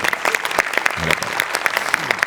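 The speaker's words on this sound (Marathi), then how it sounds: "याच्यात तुझ्या लेखकासाठी जोरदार टाळ्या एकदा" A studio audience claps in an even burst for a writer on a comedy show, the applause close and lively and filling the whole moment.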